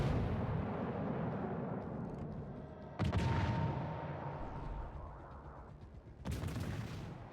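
Heavy warship gun salvos in the naval game World of Warships Legends: two loud, booming blasts a few seconds apart, each decaying into a rumbling roar over a constant low background, with no talk.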